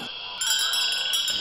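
A bright electronic notification chime rings out close and clear, a sustained tonal jingle with a shimmering upper layer. It plays alone, with no voices.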